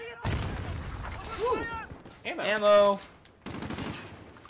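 Bursts of rapid gunfire from the video game Call of Duty Modern Warfare ring out in short volleys, with a voice talking over the shots during a frantic firefight.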